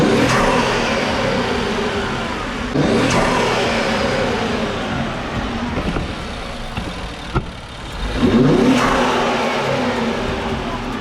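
Close 2023 Infiniti Q50 engine with a cold air intake idling, then revving up in a couple of sharp bursts with a throaty intake whoosh, loud and near.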